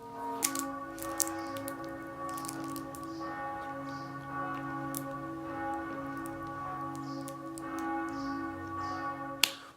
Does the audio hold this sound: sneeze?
no